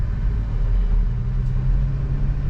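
Car crawling slowly up a steep hill road in first gear, a steady low engine drone at light load, close and continuous with no speech.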